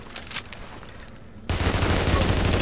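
Bursts of rapid automatic gunfire in the video game The Division, brief shots at first and then a sustained loud volley that fills the rest of the clip.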